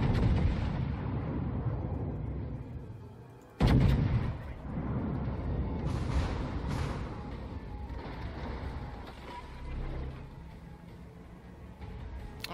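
Heavy warship guns fire in the naval battle game World of Warships, a loud booming salvo cutting through a steady rumbling background, followed by fainter distant blasts.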